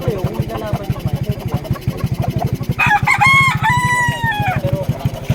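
Fighting roosters at a gamecock sale in a barangay in Alfonso, Cavite: one crows loudly and nearby in a long, strained call over a steadily thumping idling engine.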